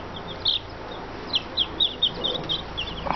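Silkie chicken chicks, including blue-beaked ones, peep in short high chirps scattered across a noisy background, faint to moderate and close by, with no talking.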